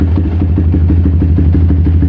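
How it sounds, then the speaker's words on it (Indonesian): Yamaha New Vixion Advance motorcycle fitted with a BRT Juken 5 Dualband ECU, its engine running at a steady low idle with a loud, even, rhythmic putter throughout, no talking. "Kita hidupin motornya."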